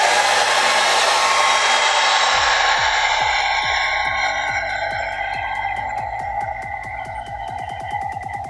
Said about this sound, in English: I'll blow dry it.